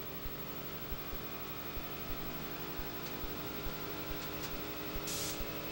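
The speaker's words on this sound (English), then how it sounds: "Hear the car scratching on the ground." A race car at Daytona scrapes its underside on the high-banked track, a constant faint roar with recurring brief scratching bursts and a short hiss near the end.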